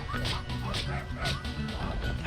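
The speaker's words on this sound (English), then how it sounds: "RooRoo Dog is a 5-hit attack." A cartoonish dog barks again and again in a battle attack from the video game Finding Paradise, a rhythmic run of sharp yips and woofs set over game music.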